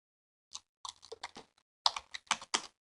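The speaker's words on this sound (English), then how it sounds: "Instead of typing this over again" Fingers tap on a computer keyboard in a quiet room, a short burst of clicks followed by a pause and then a faster, denser run of keystrokes.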